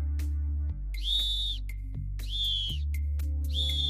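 A shrill whistle sounds three times in even blasts over a constant low hum, each blast lasting about half a second.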